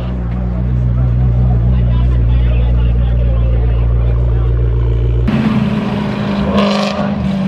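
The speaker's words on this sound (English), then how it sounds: "McLaren 12C pulling up." A McLaren 12C supercar rumbles loudly close by as it pulls up, with a deep, steady engine drone that cuts off sharply partway through, leaving crowd chatter and talk behind.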